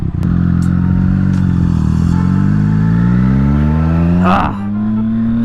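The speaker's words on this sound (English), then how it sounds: "Bunch of cars coming." Cars rush past close by on a road, a loud continuous engine roar with rising and falling pitch as vehicles approach and pass, ending in a quick whoosh.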